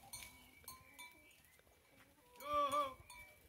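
Cattle herd on a farm with a newborn calf, where a single short bleating call rises near the end over faint, quiet background shuffling and knocks.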